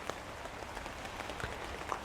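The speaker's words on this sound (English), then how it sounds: "As you can hear, the rain is on" Steady rain patters on a tent during an overnight camp in torrential rain, a dense, even hiss of drops with scattered louder taps, close and continuous with no talking.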